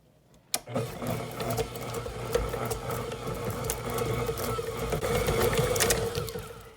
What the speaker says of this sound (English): we're going to cream this butter until it's nice and fluffy